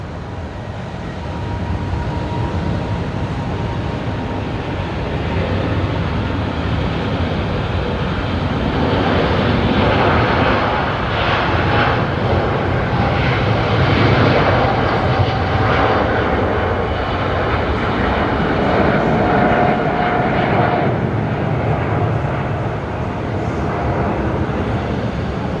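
An Airbus A350 airliner takes off at Brisbane Airport, its engines a loud, sustained roar that swells and holds steady throughout, with no talk over it.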